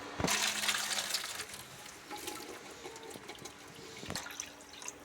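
Water splashing and running over boiled green peas being rinsed in a home kitchen, a steady close rush with a few sharper splashes, no talking.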